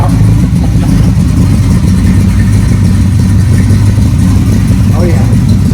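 A 1967 Camaro RS/SS convertible's engine idles loudly and steadily up close, with a slightly uneven, loping rumble that holds throughout.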